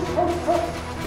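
A dog gives a couple of short, yelping barks close by, with a brief whine between them, over a low background hum.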